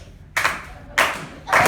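Wedding guests at a reception clap together in unison, three loud, evenly spaced claps in a slow rhythm about half a second apart, with brief quiet between them.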